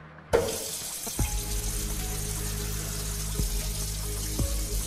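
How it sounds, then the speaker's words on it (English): Water runs steadily from a turned-on bathroom tap for handwashing, a continuous broadband hiss after a sharp start, with a few faint clunks over the flow and no talking. "First, turn on water tap."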